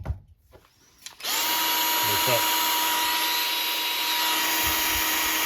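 A Warrior 12-volt cordless drill whirs up after a few quiet knocks and handling sounds, then runs at a steady, fairly loud high-pitched whine for several seconds with a slight wobble in pitch.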